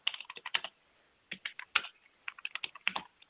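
Keys clatter on a computer keyboard in close, quick bursts of typing separated by a brief pause, crisp and clear with no talking.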